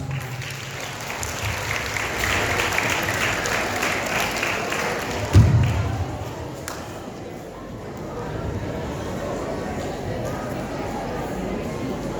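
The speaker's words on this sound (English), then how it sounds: "So guys, please give them a big round of applause." Audience applause after a traditional classical dance performance by Year 6 pupils, a steady crowd of clapping that holds throughout, with one sharp louder knock partway through and some background voices underneath.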